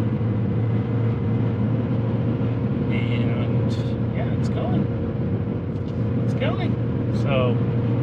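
Highway traffic streams past near San Clemente, heard from inside a moving car as a constant broad road rumble and engine drone, with faint passing vehicles and someone talking over it.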